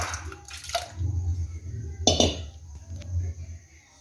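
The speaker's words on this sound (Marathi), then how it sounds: "कुकरमध्ये मी बटाटा घालते" Potatoes are dropped into a pressure cooker as a few separate bumps and clinks of metal and splashing water, close and sparse with pauses between them.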